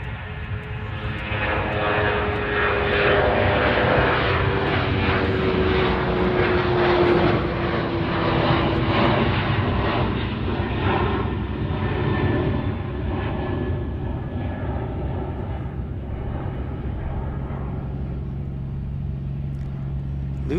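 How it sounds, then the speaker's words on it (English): A Lufthansa Boeing 747-8 jet airliner at Chicago O'Hare gives a loud, sustained engine roar that swells and then slowly fades as it passes, with broad rushing noise and a falling whine. "there is Lufthansa's 747-8"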